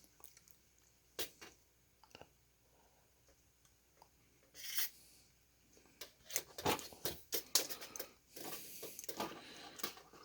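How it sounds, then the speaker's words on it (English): Stripping 14-3 electrical wire with Milwaukee pliers: scattered close squeaks, rubs and crisp snips, sparse at first and then busier, with no talking. "I'm going to use my Milwaukee pliers here to see how much I need to strip here."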